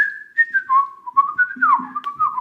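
A person whistles a melodic imitation of the Silbo Gomero whistled language of La Gomera, a loud, close, solo run of rising and falling pitch glides in short connected phrases.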